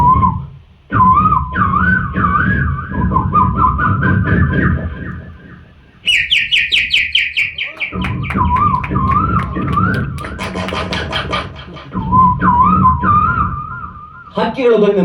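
A man imitates birds singing in a mango tree at dawn, using close, loud warbling whistles and trills in three long bursts with brief gaps between them.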